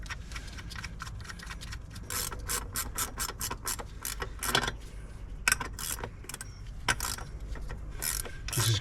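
Ratcheting on a nylon lock nut of a Range Rover L405 wheel bearing: rapid repeated metallic clicks in bursts, close and fairly loud, with brief pauses between strokes and no talk.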